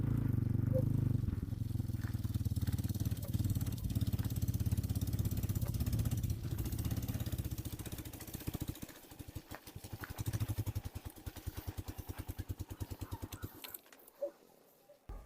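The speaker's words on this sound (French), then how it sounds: "C'est une moto à vitesse, je dois utiliser l'embrayage." A geared motorcycle ridden with clutch use, its engine droning steadily and close before breaking into a rapid, uneven clatter of firing pulses toward the end, with no talk.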